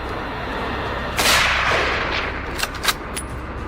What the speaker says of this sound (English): With the crosshairs steady, the shots rang out.